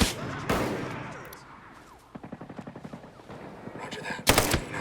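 Gunfire in Ghost Recon Breakpoint on Xbox One: a couple of sharp, loud isolated shots bracket a rapid rattling burst of automatic fire in the middle, with game background noise between.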